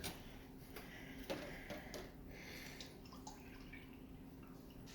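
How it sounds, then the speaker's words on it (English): Faint trickle of milk being poured into a bowl, a soft liquid splash with light drips over a quiet background. "And pour that milk in there"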